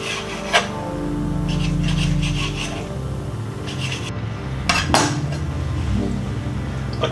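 A knife scrapes and rasps against raw chicken thighs while trimming away the fat, with steady rubbing strokes and a couple of sharper clicks over a low background hum.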